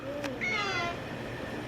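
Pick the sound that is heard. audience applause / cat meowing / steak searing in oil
cat meowing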